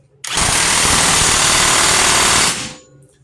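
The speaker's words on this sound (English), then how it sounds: "Now we're just going to impact this nut back on, put it back together." Pneumatic impact wrench running a wheel nut back onto a 2007 Subaru Legacy 2.5L during rear wheel bearing work, one loud continuous buzzing rattle of about two seconds, close and alone, with a sharp start and quick fade.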